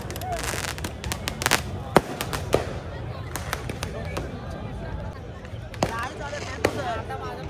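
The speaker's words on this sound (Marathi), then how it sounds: "मुलगा फटाके उडवतोय" A boy sets off firecrackers at night in a busy Paris crowd, a string of sharp cracks and pops of varying loudness scattered throughout, under steady crowd chatter and voices.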